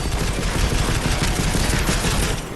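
Dense, rapid gunfire in Deus Ex: Mankind Divided rattles on loud and close for a couple of seconds, with no voices over it.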